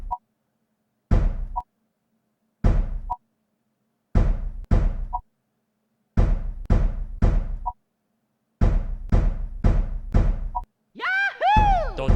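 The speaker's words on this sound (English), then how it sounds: "All of the drum banging makes that shit sound like Jumanji" Drum banging in a loud game scene: clusters of heavy, hollow thumps struck in pairs and triplets with short silences between, a faint high tone in the gaps, then a brief burst of bright, warbling cries at the end.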